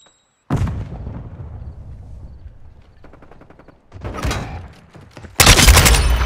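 Semtex grenade and gunfire in Call of Duty: Modern Warfare II: a sudden loud blast, then a rapid rattle of shots, another burst of fire and a final heavy explosive roar, all close and without talk.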